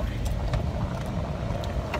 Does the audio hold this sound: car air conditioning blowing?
yes